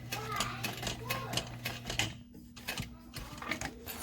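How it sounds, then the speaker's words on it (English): A sewing machine stitches a few stitches forward and then back stitches on a backpack, a steady mechanical whir with rhythmic needle clatter and a brief pause at the direction change, heard close up. "I'm going to sew about 3 stitches up and then back stitch"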